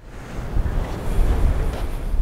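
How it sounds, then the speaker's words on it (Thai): Strong wind gusting over the sea at Wellington Point, with steady broadband rush and surf-like roar throughout, no voices, close and fairly loud. "ลมก็แรงด้วยนะครับตอนนี้นะครับ"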